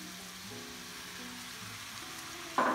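Chopped green pepper and onion frying with browning ground beef in a pan, a steady even sizzle that flares briefly louder near the end as the mixture is stirred, no voices.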